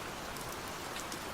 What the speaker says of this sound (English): The rain has eased slightly. It is still falling, but more gently now.